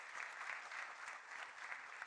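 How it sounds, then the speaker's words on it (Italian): Steady applause fills a hall at a gala awarding Sicilian amateur football in Enna, a dense crowd clapping continuously throughout at an even, moderately loud level with no talk over it. "fatevi un applauso"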